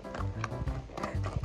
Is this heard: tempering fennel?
no